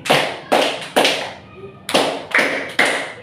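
A class of pupils claps in unison following a rhythm pattern, three sharp group claps, a short gap with a faint voice, then three more, each burst close and loud.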